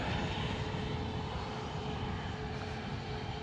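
A small Cessna light aircraft's engine drones steadily and fairly loud throughout, a continuous broadband roar with no gaps or talk, heard from a plane-spotting spot in Edinburgh, Scotland.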